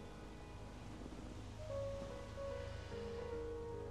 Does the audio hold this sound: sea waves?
yes